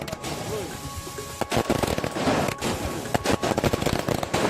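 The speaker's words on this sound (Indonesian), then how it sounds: "ini rasa syukur kita menyalakan kembang api malam ini ya." Fireworks set off at night in celebration in Pati, Indonesia, crackling in dense rapid bursts and scattered pops over a noisy crowd, with people talking throughout.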